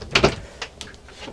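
Door of a Carthago Chic C-Line I 5.9 XL LE motorhome being handled, two sharp close knocks and clunks followed by fainter latch clicks and rattles.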